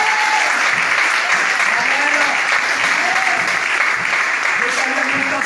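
Church congregation applauding steadily and loudly throughout, a dense continuous wash of clapping with faint voices mixed in.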